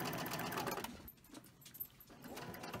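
A domestic sewing machine stitches quilt pieces together, a steady whirring hum that briefly drops away mid-run before picking up again, close and moderately quiet with no talking.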